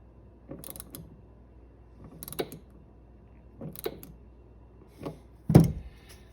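Small metallic creaks and ratcheting clicks from a wrench tightening a brass stud on a boat fuel gauge sending unit, coming in four or five short separate bursts, close and fairly quiet, with the last one the loudest.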